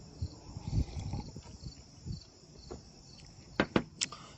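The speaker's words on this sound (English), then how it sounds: "I know the crickets are buck wild out here tonight." Crickets chirp outdoors at night in a dense, steady high-pitched trill that continues throughout, faint and distant, with a few soft thuds and scuffs closer by.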